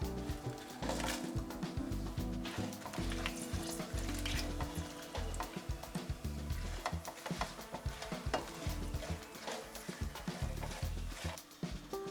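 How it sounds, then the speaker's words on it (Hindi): Twelve whole dried red chillies and a cinnamon stick frying in oil toward dark and crisp, with constant stirring: busy scraping and rattling strokes over a soft sizzle, fairly quiet and close, with no talking. "मिर्च को हम थोड़ा डार्क और क्रिस्पी होने तक फ्राई करेंगे"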